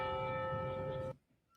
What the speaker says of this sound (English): The bell rang 3 times at 1:02 p.m.